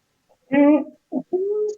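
A voice imitates a cuckoo's call with a few short, rounded tones in a loose two-note pattern, close and clear against silence, in a children's song about forest birds.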